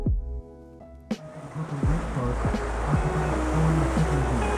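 Tour boat cruising on the Harlem River in New York City, with a steady rush of water and engine rumble throughout, preceded by a brief tonal hum at the start.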